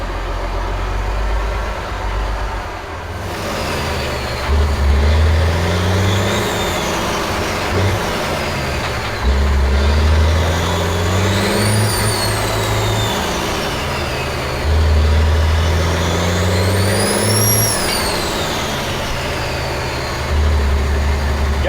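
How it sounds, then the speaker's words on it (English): A truck engine runs loud and close as the vehicle drives, with a steady rumbling drone and repeated rising and falling surges as it accelerates and shifts, and no talking. "this truck runs good, and I am not kidding you."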